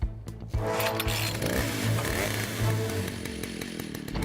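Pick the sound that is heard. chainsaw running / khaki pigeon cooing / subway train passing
chainsaw running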